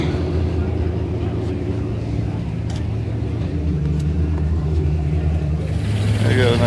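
Cars roll out of a Long Beach hi-performance car show and swap meet, a steady engine rumble and traffic drone with a car passing close near the end, voices murmuring underneath.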